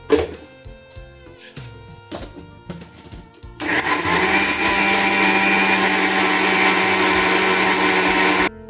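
Kitchen mixer grinder pulsed in short bursts and then run continuously, a loud steady whirring roar as it grinds North Karnataka style dry chutney powder, no talking over it.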